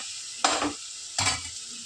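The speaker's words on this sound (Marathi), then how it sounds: "मसाला परतून घेतला ना मग त्याला तेल सुटेल" Masala for a chicken rassa curry is sautéed in oil, giving two short, close bursts of sizzling as the pan is stirred, with a quieter hiss between them.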